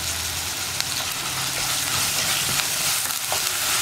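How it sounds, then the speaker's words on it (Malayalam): Onions and spices frying in a pan for a Kerala-style kozhuva fish curry, a steady loud sizzle with occasional scrapes of stirring, close by and with no voices. "ഇതെല്ലാം ചേർത്ത് നന്നായിട്ടൊന്ന് ഇളക്കി കൊടുക്കുക"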